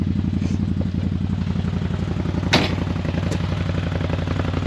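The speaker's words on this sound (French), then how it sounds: "On a bien le poum-poum du bicylindre" A CFMOTO ZFORCE 950 Sport 4 twin-cylinder UTV engine idles steadily with a low, even, pulsing rumble, close by, with a brief clatter partway through.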